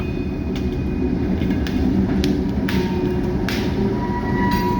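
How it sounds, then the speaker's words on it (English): Coal pops sharply on the railroad rails, a handful of crisp irregular cracks over a constant loud low rumble of rolling freight cars. "that's coal popping on rails. What you hear popping."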